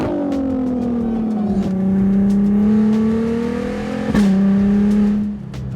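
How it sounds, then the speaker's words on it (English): A Volkswagen Mk2 GTI's VR6 engine revs up and holds high, a loud, close, droning whir that dips and climbs twice through the run with no talking. "the VR6 is one of the most unique sounding engines"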